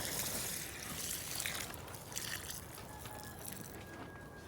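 Water sprays and trickles onto plants in a steady, hissing wash, fairly close, with no talking.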